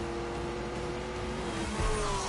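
A Corvette launches from a standstill in The Grand Tour video game, a steady engine drone that swells with a brief surge and thump near the end.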